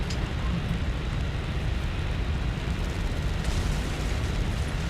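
Deep, continuous rumbling roar from bombing explosions in the combat flight game War Thunder, a dense low boom that stays loud and steady without clear separate blasts.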